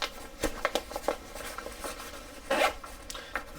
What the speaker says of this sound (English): Very heavy duty zippers too.